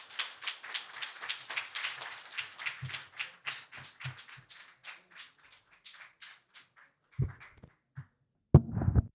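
A round of applause at the launch of an insurance program by an agriculture ministry in St. Kitts and Nevis. Close, scattered clapping gradually thins out, with a few louder handling thumps near the end.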